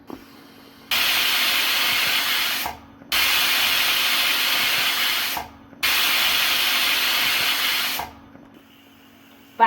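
A pressure cooker on a stove, used for cooking coconut milk rice, lets out three long, loud hissing bursts of steam, each lasting about two seconds and separated by short pauses, with no talking.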